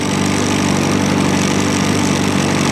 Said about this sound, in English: make sure when warming up the bike while the gear is in neutral position